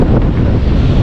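Strong wind buffets the microphone on a fishing outing on the water in rough current, a loud continuous low roar with no voices.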